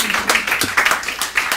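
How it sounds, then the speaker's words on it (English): A brief smattering of hand claps from people at a board of commissioners work session, short and fairly close, mixed with murmuring voices. "That deserves a clap"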